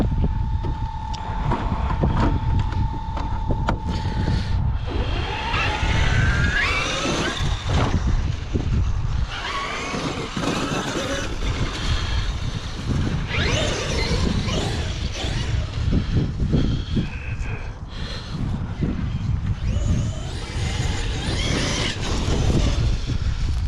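A Traxxas Xmaxx 8S RC truck runs outdoors, its electric motor whining and surging in repeated bursts under heavy wind buffeting the microphone, loud and continuous for the whole stretch.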